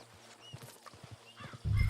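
Horse hooves clip-clop softly in Red Dead Redemption 2, a light, steady patter of footfalls that ends in a sudden louder low rumble.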